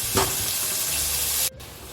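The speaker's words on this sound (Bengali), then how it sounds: "পেঁয়াজ আদা রসুনের সঙ্গে কিমাটা আমার ভালোভাবে ভাজা হয়ে গেছে।" Minced meat with fat frying alongside onion, ginger and garlic gives a loud, steady sizzle with stirring scrapes. It cuts off abruptly after about a second and a half, leaving a quieter hiss.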